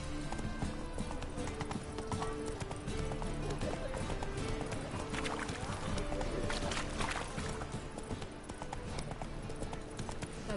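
The horse Roach gallops in The Witcher 3, a fast rhythmic clip-clop of hooves running steadily throughout, loud and close, with game music and a voice talking over it.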